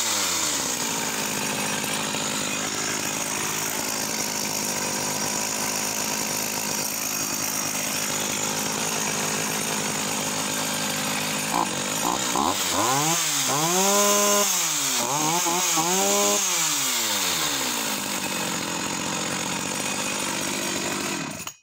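A vintage Swedish Husqvarna 444SE chainsaw roars steadily at full throttle while cutting through a 15-inch trunk, then drops into several rising and falling revs as the cut finishes, loud and close.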